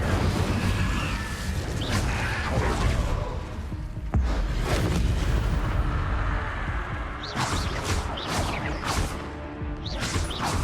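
An Incendio fire spell in Hogwarts Legacy bursts with a sharp crash and whoosh amid dense game combat noise, followed by several more quick impacts and swishes, loud and continuous with no talking.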